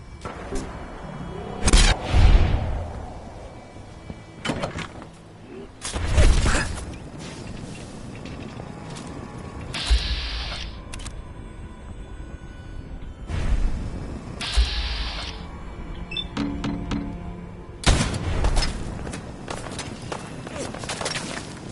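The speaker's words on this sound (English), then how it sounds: "It appears someone is shooting." Gunfire in Fallout 4: several loud, sharp shots burst out at irregular intervals among clanking mechanical noise and rumbling ambience, with no talk.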